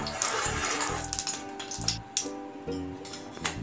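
Ghee heating in a pan for malpua makes a soft, steady sizzle with occasional light clinks, close and quiet, with no one speaking.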